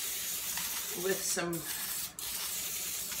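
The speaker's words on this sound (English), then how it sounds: "give it a little bit of spray" Cooking spray hisses from a can onto parchment paper lining a baking pan for cookie bars, a short, soft burst with a second faint puff, while a person talks quietly.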